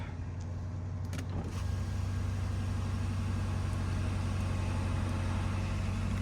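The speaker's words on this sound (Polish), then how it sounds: "może wcześniej sobie uruchomimy nasz samochód." A 2021 BMW X7 M50i xDrive with a V8 starts up, a brief crank and rising burst settling into a steady, close, loud low idle rumble that continues alone with no talk.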